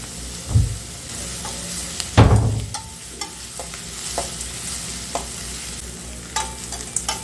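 Onions sautéing with salt in a pan for crab gravy, with a steady sizzle broken by a few sharp stirring scrapes and clatters. No voices are heard.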